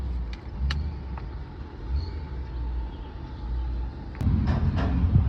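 A Chrysler 300C with a 5.7 HEMI and a straight pipe exhaust after a muffler delete idles with a low rumble, then grows louder and deeper near the end; there is no clear talking.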